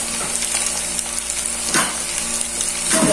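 Matsos frying in a pan of hot oil, a steady loud sizzle with brief stirring scrapes from a spoon, close up and with no talk.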